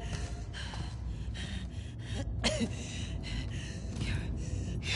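Labored, ragged breathing of a character in the video game The Last of Us Part II, with repeated gasping inhales and exhales over a faint background, one sharper gasp near the middle.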